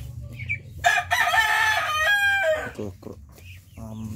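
A Pure Kelso gamefowl rooster crows once, loud and close, a long strained cock-a-doodle-doo with soft clucking and low background noise around it.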